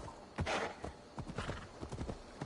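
Horse hooves clip-clop in Assassin's Creed Valhalla, an irregular run of hoofbeats with a brief whinny-like snort early on, moderately close and fairly quiet, no voices.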